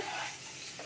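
Cauliflower pieces frying in oil in a pan, a short burst of soft hissing sizzle with a faint scrape near the end, close by and without voices.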